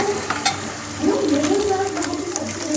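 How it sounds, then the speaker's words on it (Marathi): Whole spices are stir-fried in oil for biryani, with a steady close sizzle under scraping and stirring strokes, while someone talks over it. "हे खडा मसाला हे टाकून असं मस्त परतून घ्यायचं"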